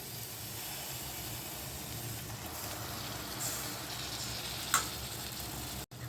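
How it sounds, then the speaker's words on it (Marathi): Tomato puree fries in a pan for a paneer dish, giving an even, close hiss of sizzling with a couple of faint clinks near the end. "त्यामध्ये आपण टोमॅटोची प्युरी घालून देणार आहोत."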